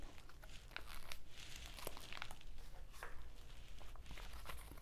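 Scotch tape pulled and pressed to reseal paper seed packets for storage, heard as close crinkling, tearing and crunchy rustling bursts over a low background rumble, with no talking.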